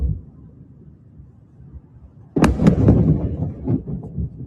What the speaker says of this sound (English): Huge explosions underway.